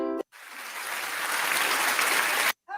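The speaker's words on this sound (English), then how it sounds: "I think we deserve a round of applause." A burst of crowd applause sound effect, dense even clapping that starts abruptly, swells slightly and cuts off cleanly after a couple of seconds, with no talking over it.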